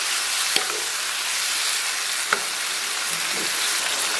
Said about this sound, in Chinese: 简单给它煸炒一下，